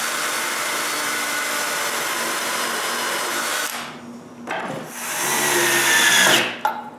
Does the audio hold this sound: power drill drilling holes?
yes